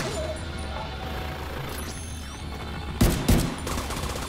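Gunfire in The Division 2: two sharp, loud shots close together near the end, over a low background rumble of combat ambience, without talk during the shots.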